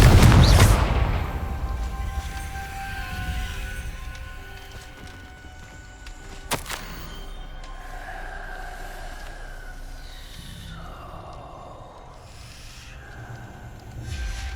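Confringo fire-blast spell in Hogwarts Legacy, a loud booming burst at the start that fades into a low rumble, followed by quieter game ambience and a brief sharp crack.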